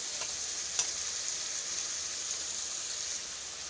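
Spice paste with poppy seed paste sautéing in a pan for a Bengali raw banana kofta dish, a constant close hiss of frying with a faint clink near the start.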